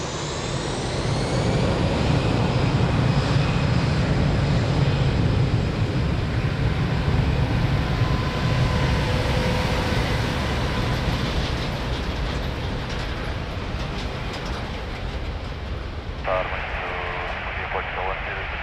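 Jet airliner taking off from runway 02 at Lisbon Airport, a loud, steady broadband engine roar held throughout, with a radio voice from air traffic control heard late over the noise.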